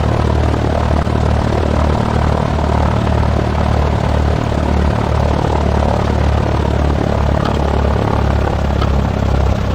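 A propeller aircraft engine in the X-Plane 11 flight simulator, set around 1500 RPM on a crosswind landing approach, drones loud and steady throughout with a constant low throb.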